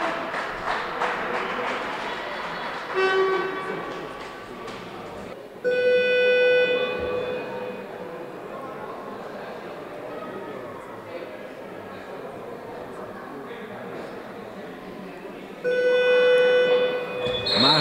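Arena horn signalling the end of a timeout at a handball match between Budafoki KK and TF Budapest, sounding in three loud steady blasts spaced several seconds apart, with a commentator talking over the noisy crowd throughout.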